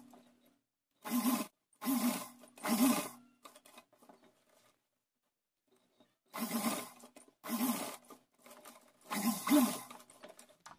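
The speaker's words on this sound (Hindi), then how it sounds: "चोली वाली पट्टी है इसको रख के यहाँ सिलाई लगा देते हैं" A sewing machine stitching a strip onto a small doll dress, running in six short bursts of about half a second each, three close together, then a pause of several seconds, then three more, with near-silence between.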